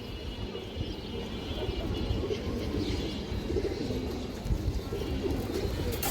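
Pigeons at a pigeon seller's coop coo softly amid a steady, noisy background, their low calls partly masked, with faint talk in the surroundings.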